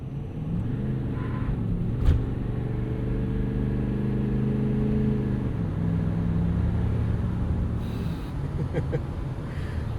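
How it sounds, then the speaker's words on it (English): A 2016 Ford F-350 Lariat Super Duty with the 6.7 Powerstroke diesel pulls hard, its loud, close engine drone climbing and then dropping at a gear change, with a steady rumble and some wind noise. "Just roast the tires into second gear."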